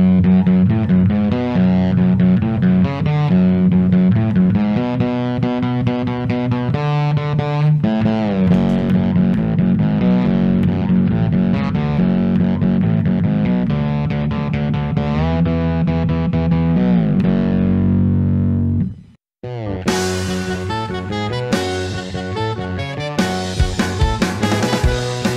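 An electric guitar runs a heavy main riff through a compressor, overdrive and octaver, the low octave adding weight. Chords ring thick and sustained, the sound cuts out briefly near the end, then returns sharper and brighter, loud with no talking.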